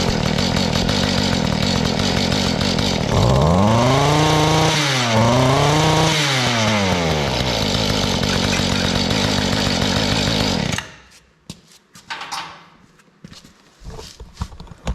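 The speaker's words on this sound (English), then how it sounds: "Now it's idling good and it's snappy enough when you hit the throttle." A Mantis two-stroke cultivator engine with a freshly adjusted carburetor runs near and loud, idling steadily, then revving sharply up and down in a few quick throttle blips before cutting off, leaving quiet rustling.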